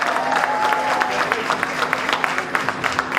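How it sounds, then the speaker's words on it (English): An awards audience claps for honorees, a moderately loud crowd of hands with distinct individual claps standing out, while a steady tone hums underneath. "Give yourselves a round of applause."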